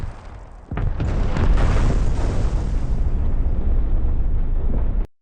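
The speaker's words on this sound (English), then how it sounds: "Fred's truck takes on a narrow road, suddenly flies off the side of the valley, and boom! It explodes" A truck plunges off a narrow valley road and explodes in a huge blast, a loud rumbling roar that swells and sustains for several seconds before cutting off abruptly.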